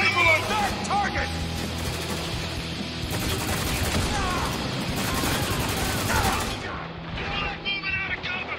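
Rifle gunfire in the shooter Spec Ops The Line: continuous loud volleys of rapid shots and booming impacts that fade out near the end, with voices shouting over the fire.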